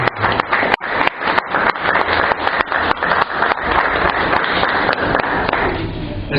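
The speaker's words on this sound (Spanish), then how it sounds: "Démosles un fuerte aplauso de bienvenida." A church congregation bursts into loud, sustained welcoming applause, dense overlapping claps with a few sharp louder hits, filling the room before tapering slightly at the end.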